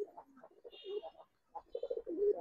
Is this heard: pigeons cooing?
yes